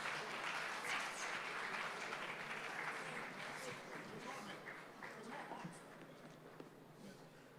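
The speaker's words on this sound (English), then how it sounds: "A round of applause for him, please." Audience applause for the Lagos State governor at the Eko Cares inauguration ceremony, a steady wash of clapping from a large crowd, heard at a distance and fading slightly over the stretch.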